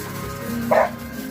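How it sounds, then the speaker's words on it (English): A single short dog bark rings out at a moderate distance over a steady low background hum. "So if you hear Boots barking in the background"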